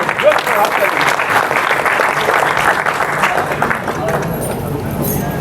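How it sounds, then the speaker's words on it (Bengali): An audience applauds at a prize distribution ceremony, with dense, loud, continuous clapping that lasts the whole stretch and is mixed with crowd murmur and voices. "জোর করে হাততালি দেবেন"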